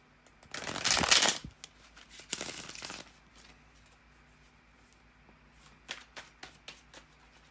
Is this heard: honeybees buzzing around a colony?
no